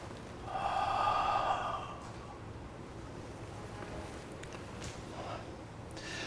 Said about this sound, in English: Inhale here and exhale.